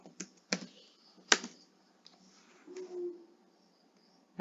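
A pip install command is typed on a computer keyboard in a few sparse, quiet clicks and taps, with short pauses between keystrokes in an otherwise silent room.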